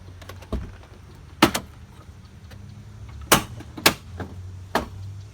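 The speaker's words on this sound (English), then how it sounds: "So when you open the passenger door, it sounds like this." The passenger door of a Pontiac Grand Prix opens with a series of sharp clicks and clunks, several distinct knocks spaced apart over quiet background noise.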